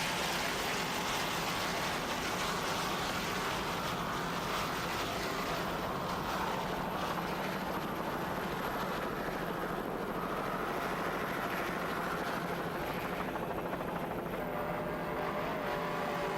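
Offshore racing powerboats, including a 35-foot Jaguar with twin 750-horsepower Mercury engines and MerCruiser drives, roar at the 1993 World Championships off Fort Lauderdale, giving a steady, dense engine drone heard from a distance with rushing water and wind.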